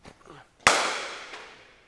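A cricket bat strikes a ball during a junior batter's net session, one sharp, loud crack with a ringing decay, after faint voices.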